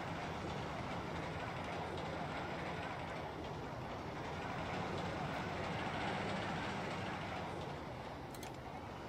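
A long roller coaster train runs steadily through a RollerCoaster Tycoon park, a continuous rumbling clatter of wheels on track holding at a constant level across the whole stretch.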